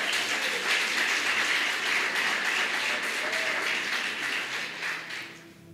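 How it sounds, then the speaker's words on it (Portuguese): A church congregation applauds together in a dense, steady wash of many hands clapping that stays even for several seconds, then tapers off at the end. "Vamos aplaudir ao Senhor?"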